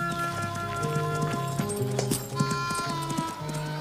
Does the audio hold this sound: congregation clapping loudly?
no